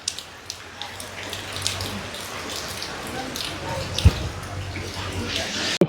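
Heavy rain in Keerimalai, Jaffna, heard from inside a shelter tower: a dense hiss of rainfall with scattered drips and water splashes, occasional low thumps, and faint voices in the background.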